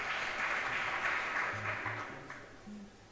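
Church congregation at a CFF service applauding together, a broad wash of clapping that holds steady then thins out, with faint tonal hums underneath and no speech.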